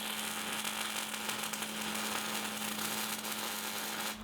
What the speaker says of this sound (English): Then I welded all the way around the base.